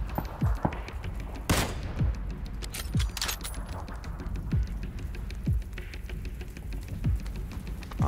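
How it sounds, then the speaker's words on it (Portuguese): Gunshots ring out in the battle royale game PUBG: a string of sharp, separate shots spaced about a second apart, a few louder bursts among them, set over steady background noise with no talking. "Ah, eles estão atirando aqui, ó."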